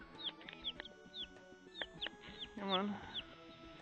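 Young chickens and two roosters cluck and chirp in a backyard flock, a run of short calls with one louder squawk near the end, while a person speaks briefly nearby.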